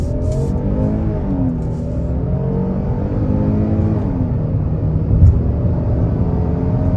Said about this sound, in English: All right, guys, one more time in sport mode, starting off in first gear. On the gas.